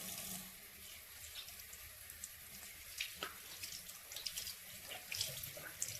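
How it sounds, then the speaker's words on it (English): Warm water runs from a tap to rinse a rag, a faint steady hiss and trickle with soft splashes and small knocks scattered through it. "Now grab like a rag, rinse this with warm water."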